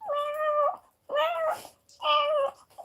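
A person imitates a cat, giving three drawn-out, clear meows separated by short pauses, close and alone.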